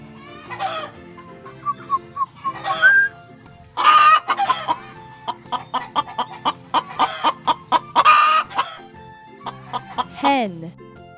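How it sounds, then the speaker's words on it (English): A hen clucks in a series of short, uneven bursts, a few louder squawks among them, ending with a drawn-out falling call. "Hen."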